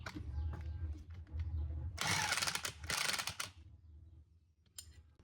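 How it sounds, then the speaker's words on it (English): A wrench and socket ratchet in two bursts of close metallic clicking, tightening the nut on a shock mount during an off-road truck suspension install, with lower mechanical rumble before and after. "We'll tighten it down with 18mm on the bolt head and a 24 on the socket."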